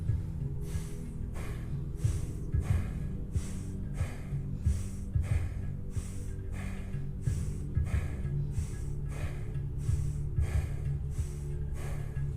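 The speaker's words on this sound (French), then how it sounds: "n'hésitez pas à prendre de bonnes respirations" Slow rhythmic deep breathing during a morning energy routine, about a dozen strong audible inhales and exhales in steady cycles, close and fairly loud, with no speech over it.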